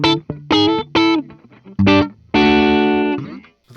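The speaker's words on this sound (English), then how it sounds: "that bridge really comes to life with the distortion" A 1983 Gibson Spotlight Special in dark antique sunburst plays on its bridge pickup through distortion, several short stabbed chords followed by a long ringing chord that fades, loud and up close.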